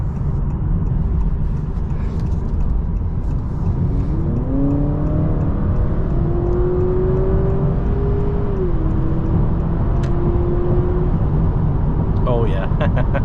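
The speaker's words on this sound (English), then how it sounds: "Let's go ahead and put this Accord on sport mode and hop on the highway and see how it does." A 2024 Honda Accord Hybrid with a 2.0 naturally aspirated engine, in sport mode, accelerating onto a highway: constant road and cabin roar with a rising engine tone that climbs, holds, then eases, heard from inside the car.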